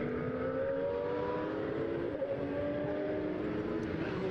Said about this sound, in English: So cars out on track at the moment